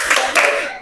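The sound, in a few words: classroom focus clap by pupils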